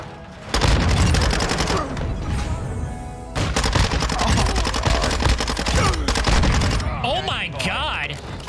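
Bizon submachine gun fire in Modern Warfare 2, dense rapid automatic bursts with short pauses between them, loud and close, with a player talking over the shooting and brief warbling game sounds at the end.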